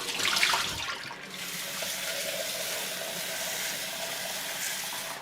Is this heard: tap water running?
yes